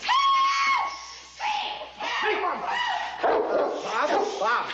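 A dog in a Western TV series gives loud whining barks and yelps close by, in several bursts that run into one another.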